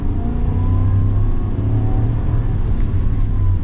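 A 2026 Chevy Silverado 3500 pickup with a 6.6-liter gas V8 accelerates, its engine holding a loud, steady low drone with a slowly rising pitch throughout, close and continuous with no talk over it.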